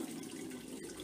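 Wort being recirculated over the mash bed and poured onto a tin tray during homebrew beer sparging, a steady close trickle and splash of liquid running throughout.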